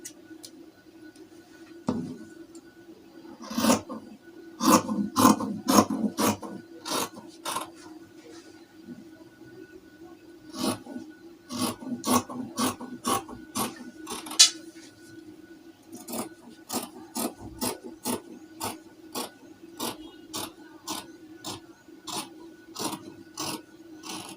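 Scissors cut out a fabric bodice piece for a peplum top, sounding as quick runs of sharp, crisp snips in several bursts with short pauses between, close by and moderately loud against a low background hum.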